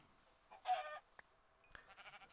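A chicken in the Minecraft game on PS4 gives a short burst of clucking, followed by a brief click and a few soft, faint game noises in a quiet scene.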